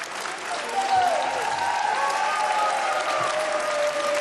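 A dance show audience applauds steadily, dense clapping filling the room while a host speaks over it.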